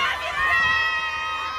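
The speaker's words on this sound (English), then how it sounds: "Coordinated cheer and coordinated cheer again." A crowd of fans cheers in unison for SB19's Stell at an Atom Boyz 2 appearance in Taiwan. The brief, sustained burst of high-pitched voices sits up close, with the crowd noise underneath.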